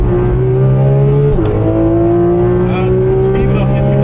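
A Porsche GT3 RS accelerates hard on the Nürburgring, its engine note a loud, steady in-cabin roar that dips at a gearshift and climbs again, while people talk over it.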